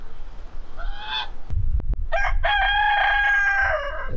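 A rooster crows in the morning in Puerto Rico, one loud, close, drawn-out call after a brief flap and clatter, with a quieter crow just before it.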